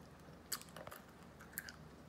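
Chocolate candy chewed close to the mic, with a couple of sharp crunchy bites followed by soft, quiet chewing.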